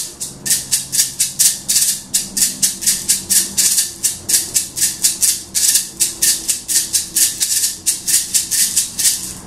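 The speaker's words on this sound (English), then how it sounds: "we're going to go into the bachata pattern" Maracas shaken in a bachata pattern, a crisp, close, steady stream of bright rattling strokes with accented beats and quick doubled rolls, played alone with no talking.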